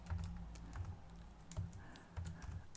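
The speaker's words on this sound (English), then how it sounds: "if I type in a runtime and then a start date and an end date" Keys clatter on a computer keyboard in quick, quiet bursts of typing, with short pauses between clusters of keystrokes, fairly close and soft.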